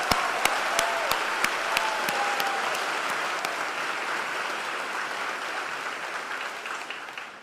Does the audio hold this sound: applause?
yes